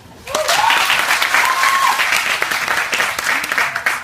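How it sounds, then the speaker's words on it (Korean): Church congregation applauds during a sermon, a dense burst of clapping that rises quickly, stays loud for several seconds, then tapers slightly, with some voices mixed in. "박수!"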